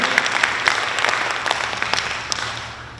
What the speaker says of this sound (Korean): 박수도 한번 보내고요.